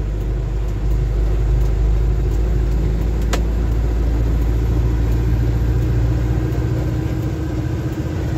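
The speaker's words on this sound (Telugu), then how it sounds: "మన బ్యాక్ సైడ్ ఇంకా బండ్లు వస్తూ ఉంటాయి." Vehicles drive along a mountain road beside a valley in the early morning, a steady engine rumble and road noise that holds throughout at a fairly loud, constant level with no talking.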